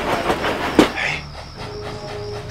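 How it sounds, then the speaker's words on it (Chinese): A military train passes close by on the railway, its wagons rattling with rhythmic clickety-clack over the rails and a sharp metallic clank near the start, loud and steady. "是军列。"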